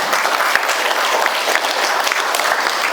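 Steady, dense applause from an audience at a talk, continuous clapping at even loudness throughout with no voices over it.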